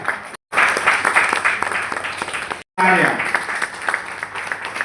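Applause from a seminar audience on green energy, dense clapping that cuts out briefly twice and resumes, with faint voices mixed in.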